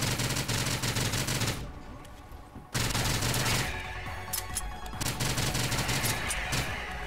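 Rapid automatic gunfire from the fast-paced shooter game STRAFE, loud continuous bursts that stop abruptly for about a second, then resume as sustained firing mixed with other game effects.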